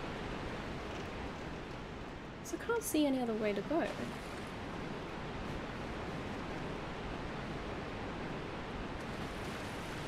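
Steady broadband rush of a waterfall inside the Dark Souls game, constant and full throughout, with someone speaking briefly over it near the start.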